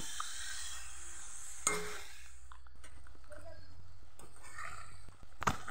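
Local chicken meat goes into a pan of fried onions, sizzling softly with a few sharp clinks and scrapes of a spoon against the pan in between.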